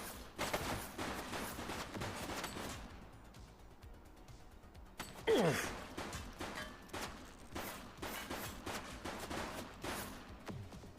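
Rapid gunfire rattles through a police shootout in The Precinct, with repeated sharp bursts of shots, a brief pause in the middle, then more clustered volleys close by.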